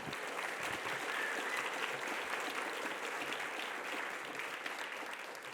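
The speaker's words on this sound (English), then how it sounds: "Can we all give Brianna another round of applause?" An audience at an environmental conference bursts into sustained applause, a dense, even wash of many hands clapping that holds steady throughout and tapers only slightly at the end.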